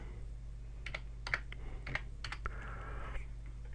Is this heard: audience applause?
no